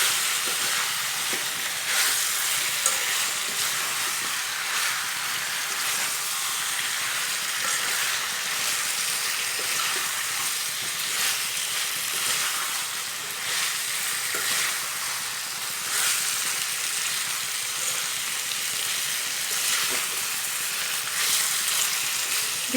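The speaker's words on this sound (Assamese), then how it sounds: "এতিয়া চিকেনখিনিৰ লগত দি দিম আৰু আলুখিনি মিক্স কৰি ফ্ৰাই কৰি ল'ম।" Chicken and cut potatoes fry together in a pan for a local chicken curry, giving a dense, steady sizzle and hiss that stays even and close throughout, with a few faint stirring scrapes.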